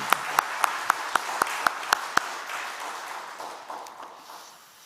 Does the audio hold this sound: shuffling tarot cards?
no